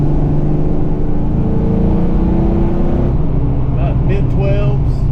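A Foxbody Mustang engine pulls at wide open throttle, a loud rising roar that climbs steadily in pitch, then drops off as the revs fall and a brief shift-like change follows near the end.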